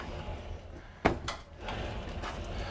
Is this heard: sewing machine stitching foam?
no